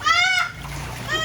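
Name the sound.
ondel-ondel toy splashing in a kids' swimming pool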